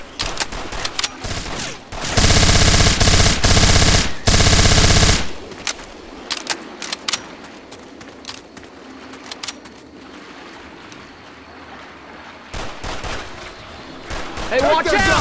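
Left 4 Dead 2 co-op play against zombies brings loud bursts of rapid automatic gunfire, two long sustained volleys with scattered single shots around them, mixed with game clatter and some voices.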